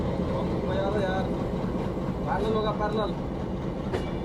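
The GT Express runs steadily on its rails with a continuous rolling roar and faint clicking from the wheels, heard from on board or close by, with a little background voice or noise mixed in.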